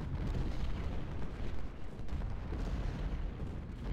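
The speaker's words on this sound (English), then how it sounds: "More canister fire in the face for Cook, but just not breaking him" Canister artillery fire in an Ultimate General Civil War battle at Marye's Heights: a continuous dense rumble of cannon blasts and musketry, loud and sustained, with no clear gaps between shots and no talk.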